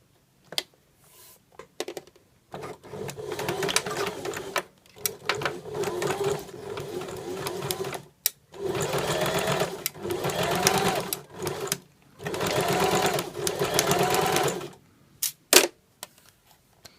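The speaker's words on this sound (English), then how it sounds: "I'm going to stitch the bias binding on, stitching in the groove here, the folded groove of the bias binding" A sewing machine stitches bias binding for a Hong Kong seam finish in several short bursts of rapid mechanical whirring, separated by brief quiet pauses, close and clear.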